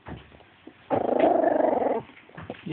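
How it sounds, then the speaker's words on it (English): A three-week-old puppy growls close up, a single rough, buzzing growl of about one second standing out between quieter bits of movement. "You growling at me?"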